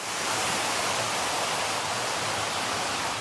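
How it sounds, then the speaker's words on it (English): Floodwater pours in a steady, loud, broadband roar as it rushes into a Tokyo Metro underground station, continuous and unbroken like a waterfall. "The Tokyo Metro was an underground, soon underwater, complete with a raging water feature."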